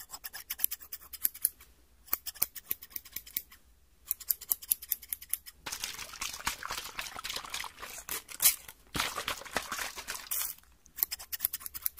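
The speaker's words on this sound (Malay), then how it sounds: "dia adalah bunyi macam orang potong rambut" Crisp scissors snip steadily close up, with short pauses between bursts of cutting and faint rustling and spray-like hiss in between.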